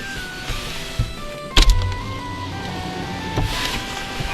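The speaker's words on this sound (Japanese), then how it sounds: "運転席の窓開けます" Driver-side power window of a new Daihatsu Atrai kei camper van lowering, a close, steady electric motor whine with a sharp clunk as it starts; no talking.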